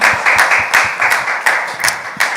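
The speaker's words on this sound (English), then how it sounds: "I can clap us up" Crowd applause, dense rapid clapping from many hands, loud and close, continuing steadily throughout.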